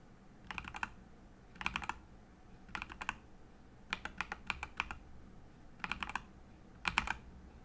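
Nuphy Baby Raccoon keyboard switches are typed on at the WASD keys, producing short bursts of crisp, close clacking keystrokes separated by brief pauses, alone with no talk.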